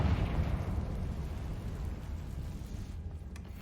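A Confringo blasting spell explodes in the Hogwarts Legacy video game, a close, loud burst with a heavy low rumble that decays into a sustained, gradually fading roar, with no voices.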